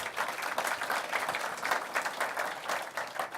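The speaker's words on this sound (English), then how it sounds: "Let's give them another round of applause." An audience at the official opening of an innovation centre in Logan City gives a sustained round of applause, steady dense clapping that fills the space with no break.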